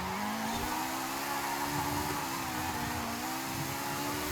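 Drift car in Forza Horizon 5 on a custom race track, its engine held at a loud, steady high-rev drone with a slight wavering pitch while sliding, continuous and close throughout, with no talking.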